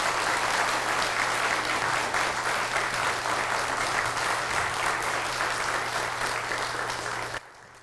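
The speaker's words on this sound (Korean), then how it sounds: "우리 박수로 주님 앞에 영광 돌리겠습니다" A church congregation claps steadily during a Sunday worship service, dense sustained applause filling the room for about seven seconds before cutting off abruptly near the end.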